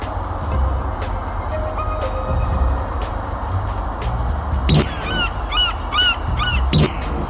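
Gulls cry out twice above a moving car on a road near the sea, sharp harmonic calls with rapid trailing notes, moderately loud over the steady hum of the car interior.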